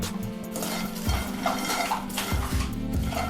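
A flattened rice snack mix being stirred with masala in a pan, giving steady scraping and clinking of a spoon against metal, close and continuous with no talk.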